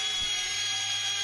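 A Blade MSR X micro RC helicopter flies nearby, its small motor and rotor producing a steady, high-pitched buzzing whine that stays constant and fairly loud.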